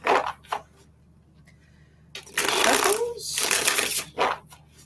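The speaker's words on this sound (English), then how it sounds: "Shuffles." Tarot cards are shuffled in quick riffling bursts, close and crisp, with brief pauses and a short spoken word near the start.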